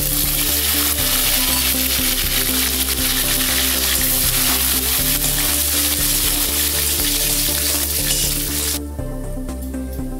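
Mustard seeds, lentils and curry leaves sizzle loudly in hot sesame oil for a Tamil tempering, a dense, steady crackle heard close with no talk, easing suddenly near the end.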